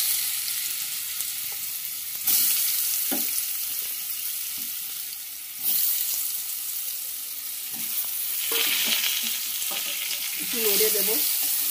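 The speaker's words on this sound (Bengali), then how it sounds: "তেল গরম হয়ে গেছে, হলুদ লবণ মাখানো আলুটা এবার ভেজে নেব।" Potatoes coated in turmeric and salt frying in hot oil, a steady loud sizzle with occasional stirring scrapes and swells where pieces are moved around the pan.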